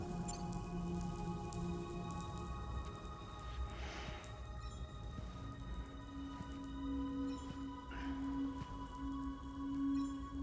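Steady rain falls in Death Stranding 2: On the Beach, a dense wash of patter with a few sharper droplet hits and faint tonal game ambience underneath, continuous and fairly quiet with no voices.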